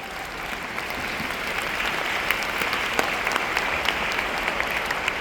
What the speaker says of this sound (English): Because of this, I think we should give Beata a big round of applause.